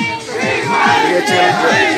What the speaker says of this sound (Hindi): आरक्षण के समर्थन में हजारों की तादाद में भीड़